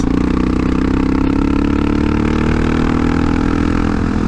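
A Honda CRF450RL motorcycle engine fitted with a Rekluse clutch, running in 6th gear at low road speed, hums steadily and loudly up close, a continuous lugging drone with a slight clatter and no pause.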